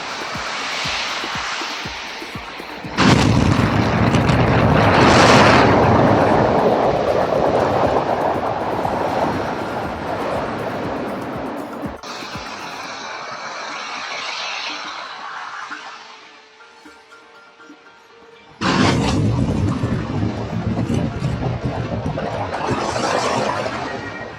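SpaceX Starship booster B-13 static fire test, a heavy rocket-engine roar heard from a distance, loud broadband rumble in long bursts with a quieter gap between them.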